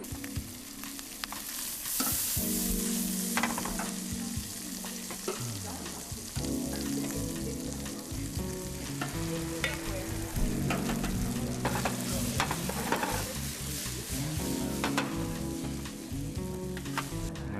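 Pork and cheese omelet sizzling steadily in a hot pan, a continuous frying hiss with occasional scrapes and stirring clatter, close and fairly loud with no talk.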